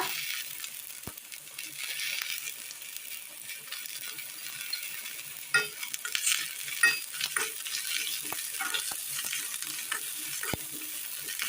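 Onions and curry leaves fry in a pan for a Kerala curry, giving a steady close sizzle with occasional stirring clinks and scrapes, with no voices over it.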